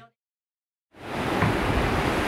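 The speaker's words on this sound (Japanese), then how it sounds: "今日は波がすごいな。" Strong ocean waves at an Okinawa beach: a broad, steady roar of surf that swells in suddenly after a short quiet moment and stays loud to the end.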